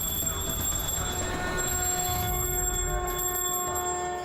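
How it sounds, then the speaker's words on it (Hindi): Temple bells ring out with sustained metallic tones, overlapping and shimmering, loud and continuous, echoing inside a cave, with no talking. "पूरी कंदरा घंटी, शंख और मंत्रों से गूंज उठी।"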